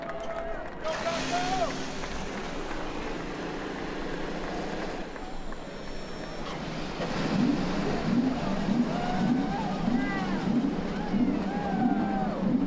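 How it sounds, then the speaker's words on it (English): IndyCar race car engines fire up at the Grand Prix of St. Petersburg street circuit, a growing rumble of many engines that swells louder partway through, with a commentator talking over the noise. "So as those engines fire, we aren't far from seeing the cars roll"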